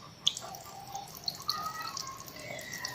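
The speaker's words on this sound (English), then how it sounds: "We should adjust the flow of the water" Tap water running from a faucet into a sink for hand washing, a faint, steady trickle with scattered small drips and splashes, quiet and close with no talking.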